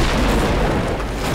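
Bridge being blown up in the Company of Heroes war strategy game: a dense, sustained roar of blast and rumble with no clear gaps, loud and close, filling the whole moment without talk.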